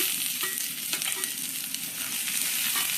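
Fried rice with chopped capsicum and green chili sizzling in a pan as it is stirred, a close, continuous hiss and crackle with small scraping bumps, no talking.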